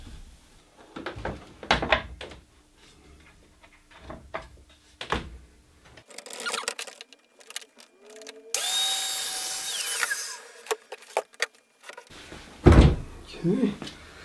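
Titan track saw cutting melamine-faced chipboard: after handling knocks and clatter with someone talking, the saw motor whirs up and rips through the board in a loud few-second burst, then winds down before more clunks and speech.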